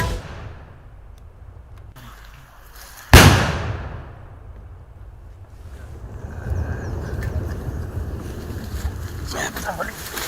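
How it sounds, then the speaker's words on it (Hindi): A bomb planted by Naxalites in Dantewada is blasted and destroyed by CRPF security forces. One sharp, loud explosion bursts out and then decays into a long rumbling, windy roar that lingers afterward. "इसे तत्काल ब्लास्ट कर नष्ट भी कर दिया गया है"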